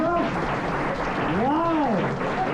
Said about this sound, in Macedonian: Добро, аплауз.